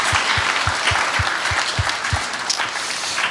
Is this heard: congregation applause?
yes